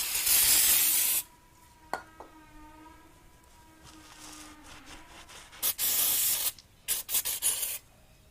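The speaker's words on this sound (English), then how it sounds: "So just get around that rotor, wipe it down, wipe off that caliper." A cloth rubs and wipes around a bicycle's brake rotor and caliper in close, scratchy strokes, with spray bursts, brief pauses and faint metallic ringing between passes.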